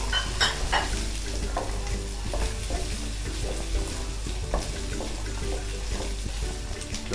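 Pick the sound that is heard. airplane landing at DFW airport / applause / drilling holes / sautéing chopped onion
sautéing chopped onion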